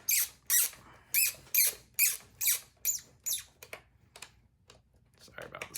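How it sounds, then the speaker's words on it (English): Squeaking during assembly of a timer unit with bolts, a run of regular sharp squeaks about twice per second, close and fairly loud, thinning into softer irregular squeaks toward the end. "Sorry about the squeaks."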